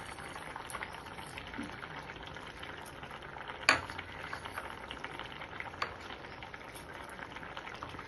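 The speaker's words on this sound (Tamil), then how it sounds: "தேவையான அளவு தண்ணி ஊற்றி கீரையை நல்லா வேக விடணும்." Drumstick leaves simmer in water with a faint, steady bubbling and hiss, broken by one sharp clink partway through and a few soft knocks; no one speaks.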